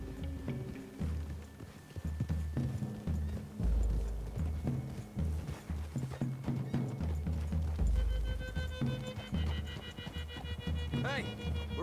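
Horse hooves clopping in Red Dead Redemption II, a steady run of thudding footfalls over ground through a wooded clearing, mixed under game music and characters talking.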